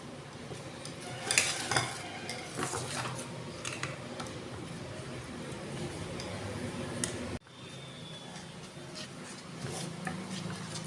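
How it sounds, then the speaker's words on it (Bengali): Flour and water batter for paratha being stirred smooth in a bowl, with repeated scraping and clinking of utensil against the container, close and fairly quiet, pausing briefly before resuming. "আমি এটা ভালো করে গুলে নেব যেন কোনো রকম লাম্পস না থাকে।"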